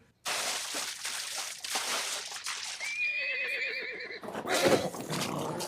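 A horse neighs, with a high wavering whinny rising over a dense, noisy background of rushing sound and bustle.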